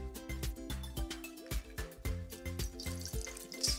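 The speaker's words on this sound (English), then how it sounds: "and then rinse it with water." Tap water runs while a penny is rinsed under it, a steady splashing stream with irregular knocks and clatter throughout and no talking.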